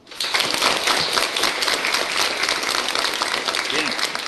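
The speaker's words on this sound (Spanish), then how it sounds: "Y vamos a recibirle con un aplauso." A classroom breaks into sustained applause to welcome a new student, dense even clapping from many pupils that starts abruptly and stays loud throughout.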